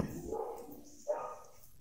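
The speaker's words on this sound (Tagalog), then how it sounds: "Pasensya na kung may marinig kayong tahol ng aso." A couple of short dog barks, somewhat distant, separated by a brief pause, over faint background noise.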